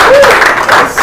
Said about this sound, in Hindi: परफेक्ट तालियां